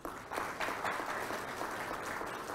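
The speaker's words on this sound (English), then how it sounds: "I want to give you a round of applause to each and every person here" An audience at a technology inauguration and planning meeting claps together in a brief, steady burst of applause, moderately loud with no talking.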